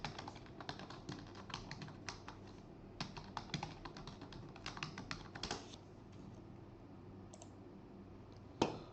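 Rapid keystrokes on a computer keyboard as a password is entered, a close run of light clicking taps in quick bursts, then a pause and one sharper final keypress.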